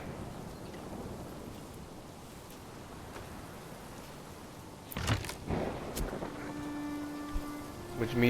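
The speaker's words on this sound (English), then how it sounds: "It's raining." Rain falls in the medieval city-builder game Manor Lords, a soft continuous patter, later joined by sharper clatters and a faint tonal game sound.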